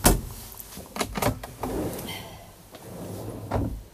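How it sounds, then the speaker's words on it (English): Soft close drawers shutting in a Chausson Welcome 728 EB motorhome kitchen, several muffled knocks and slides in a row, close and fairly quiet with no voices. "Soft close drawers"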